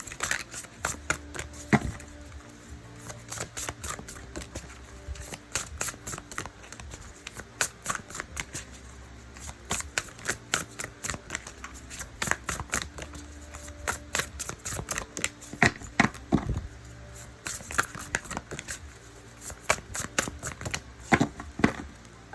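A deck of cards being shuffled to draw a card, with rapid riffling and snapping bursts repeating steadily and close by for over twenty seconds, no voices.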